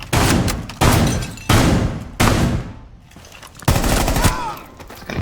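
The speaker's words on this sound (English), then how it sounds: "Just gonna keep shooting until you run out of bullets, huh?" Automatic gunfire in Rainbow Six Siege comes in loud repeated bursts, several sustained volleys separated by short gaps, close and punchy.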